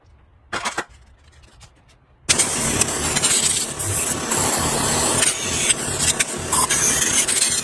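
Carburetor cleaner sprayed onto a 1937 Maytag Model 92 two-stroke engine, a brief hiss early on, then a loud, sustained broad hissing spray with a few short gaps and pulses, close up.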